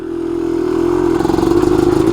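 A 250R two-stroke motorcycle engine runs close by on a quick lap, a steady buzzing drone that grows louder and pulses with throttle, rising in a rougher, choppy rev toward the end.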